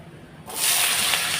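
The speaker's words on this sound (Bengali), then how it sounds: "এখন আমি আলুগুলো ঢেলে দিই চলো" Washed potatoes hit hot oil in a pan, setting off a sudden loud, bright hiss of sizzling that bursts in after a quiet moment and holds steady, close by.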